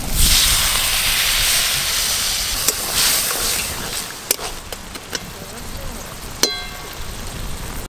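A little water poured into frying crab masala produces a loud sudden sizzling hiss that gradually fades, with a few clicks of a utensil against the pan.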